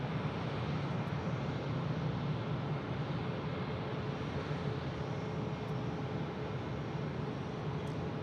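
An airliner at Phoenix Sky Harbor Airport produces a steady, broad jet roar heard from a distance, a continuous even rumble without obvious rise or fall.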